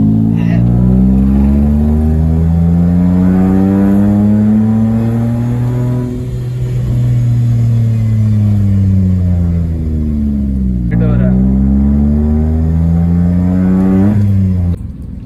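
A Suzuki Wagon R with a straight pipe exhaust revs loudly and close by, its engine note climbing and falling in several sustained sweeps with a brief dip midway, a deep raspy drone throughout.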